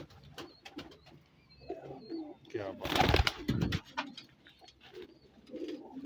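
Fine-feathered Ferozpuri pigeons from Sheikhupura coo in soft, low bursts close by, while someone speaks briefly over them.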